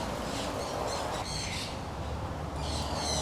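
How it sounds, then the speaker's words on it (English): Lutino Indian ringneck parakeets calling in the garden area of an aviary bird shop, a series of bright, repeated chirps and squawks heard fairly close over a steady background hum. "That's a Lutino Indian ringneck parakeets"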